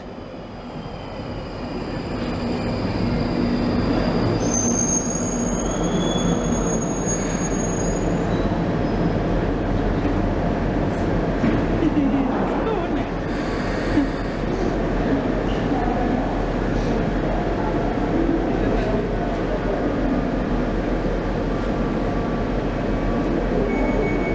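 A London Underground 1995 stock train on the Northern line rumbles steadily close by, with a continuous low roar, rising as it gets under way, and thin high wheel squeals drifting over it; a voice talks now and then.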